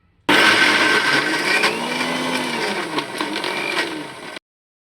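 A mixer grinder whirs loudly and steadily, grinding soaked chana dal with ginger, green chili, garlic and fennel, running continuously for about four seconds before cutting off.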